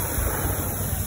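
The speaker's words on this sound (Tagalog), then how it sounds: "Ang lakas kasi ng alon." Strong ocean waves break on a beach at a resort, heard as a dense, loud, continuous wash of surf and rushing wind noise across a very short stretch.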